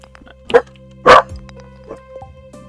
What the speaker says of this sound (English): Oh, bloody dogs.